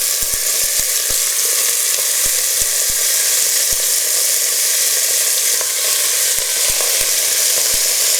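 Beef pieces sizzle loudly in a hot pan for a stew, a steady close hiss with scattered sharp pops and taps of a utensil against the pan.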